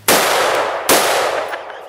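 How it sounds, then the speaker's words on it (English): Two loud, close rifle shots crack about a second apart, each with a sharp onset and a long, echoing decay. "I love this rifle."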